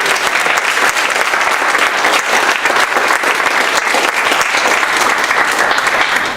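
Sustained audience applause at a community talk at a YMCA, dense steady clapping from a full room, loud and continuous throughout with no gaps.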